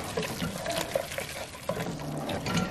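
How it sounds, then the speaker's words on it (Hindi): Water poured into thick pav bhaji masala simmering in a pot, a steady watery pouring with soft bubbling and small splashes, heard up close in a home kitchen. "इसमें थोड़ा सा पानी ऐड करना पड़ेगा।"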